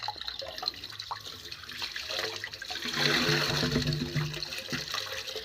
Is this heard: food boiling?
no